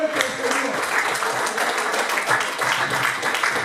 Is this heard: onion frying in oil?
no